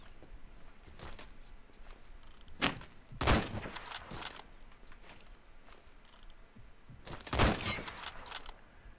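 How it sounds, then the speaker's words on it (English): Shotgun fire in the online shooter Phantom Forces: several loud, sharp blasts spaced a few seconds apart over a steady background hiss, with softer distant shots between them. "Are you really trying to kill me with a shotgun from over there?"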